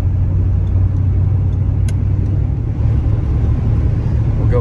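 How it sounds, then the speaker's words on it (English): A 1989 Ford F-250 XLT Lariat pickup with a 460 V8 accelerates to highway speed, giving a steady, loud low rumble of engine and road noise from inside the cab, with no talking. "Excellent torque out of this 460. Gets up to highway speeds quickly."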